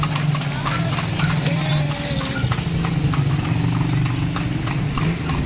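Horse hooves clip-clop at a steady trot while pulling a carriage on a city tour in Vigan, with engine rumble and voices talking underneath.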